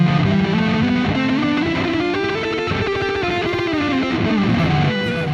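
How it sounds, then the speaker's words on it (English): Distorted rock electric guitar plays fast, dense Dorian runs through a delay effect, loud and sustained, with notes blurring into a wall of sound and no voices. "you can hear the delay effect is really cool. It gives like a wall of sound"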